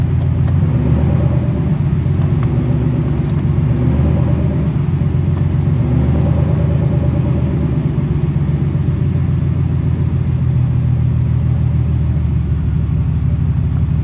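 Mercedes SL600 engine idling during a transmission engagement test, with a steady loud low rumble throughout and only small load changes as the gearbox engages, close and continuous with no talk.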